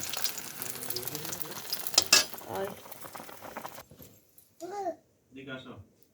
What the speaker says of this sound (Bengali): রুই মাছ দিয়ে এদিকে মাছ ফ্রাই হয়ে গিয়েছে